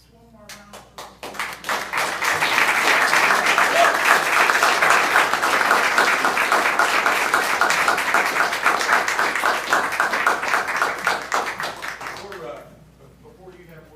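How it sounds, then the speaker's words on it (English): A city council meeting audience breaks into applause: a few separate claps swell within two seconds into dense, loud clapping that holds steady, then tapers off near the end, leaving quiet room sound. "One more round of applause."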